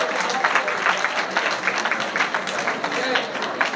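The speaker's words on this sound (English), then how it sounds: "Give them a round of applause." Audience applause for sophomores at a high school underclassman awards event: a short burst of dense, fairly close clapping with voices murmuring through it.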